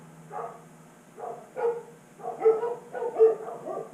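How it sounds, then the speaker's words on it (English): A dog barks repeatedly outside, a run of separate barks and yips spaced about half a second to a second apart, muffled and moderately distant, with no talking over it. "Dog's barking outside going nuts."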